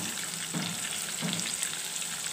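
Onion paste fries in oil previously used for frying fish, giving a continuous hissing sizzle with a couple of soft stirring bumps, close and steady.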